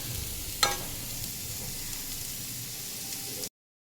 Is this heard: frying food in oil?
yes